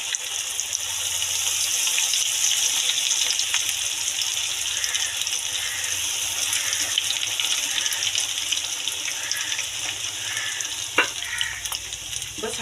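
Brinjal pieces fry in hot oil over a low flame with a steady, loud sizzle that continues for about twelve seconds, plus a few faint clinks and no speech.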